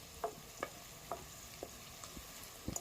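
Turmeric for an egg curry fries in a pan as a spoon stirs it, making a soft sizzle broken by about seven evenly spaced scraping taps.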